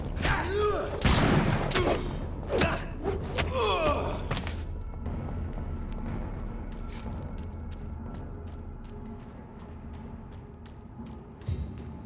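Turret fire in Vampyr, a gothic action game: a cluster of loud sharp shots and thuds at the start mixed with grunts and a voice, then a long stretch of quieter rhythmic clicking pops and a late thump.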